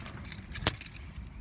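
A set of BMW M3 car keys jangles in a few quick metallic bursts, close and fairly quiet, with one sharper clink near the middle and no talking.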